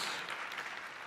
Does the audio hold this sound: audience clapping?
yes